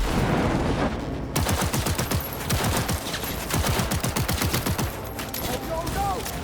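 Gunfire in the video game Cyberpunk 2077 cracks out in rapid, repeated automatic bursts, loud and dense, with brief gaps between volleys.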